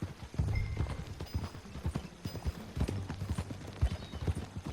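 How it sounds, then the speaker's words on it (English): Horse hooves clip-clop in a steady, uneven rhythm on hard ground, fairly close, with a faint snort or whinny in places. "That new horse?"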